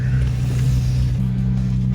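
Nissan GT-R engine on a test drive, a loud steady low rumble heard from inside the car, with the pitch stepping up slightly partway through and no talking.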